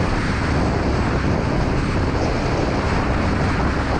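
A 2018 Royal Enfield Classic 500 motorcycle cruises steadily at 80 km/h, giving a constant, loud broadband rumble of engine and wind with no break and no talk.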